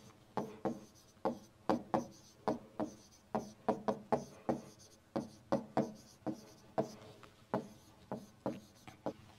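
Pen or marker strokes writing out automaton transitions, faint and close, with quick scratchy strokes arriving in a steady, uneven rhythm of short bursts and brief pauses.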